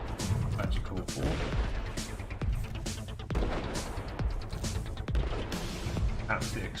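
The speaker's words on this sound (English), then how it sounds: "Perhaps the explosion could be something a bit more magical." Rocket explosion effects in a video game, a series of sharp booming blasts repeating every second or so, loud and close, over a rumbling background.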